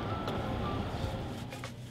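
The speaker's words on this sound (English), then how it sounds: "There's your 306 GTI." A Peugeot 306 GTI drives past on a Saturday evening in Cheddar Gorge, its engine and tyre noise a steady, close, fairly loud rush that fades slightly as it goes by.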